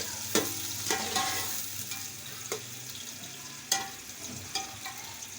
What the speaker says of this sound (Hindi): तो प्याज को लाइट ब्राउन कर लें।